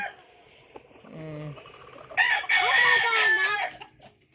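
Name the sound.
rooster crowing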